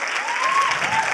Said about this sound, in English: So please give Norena a round of applause for her generosity.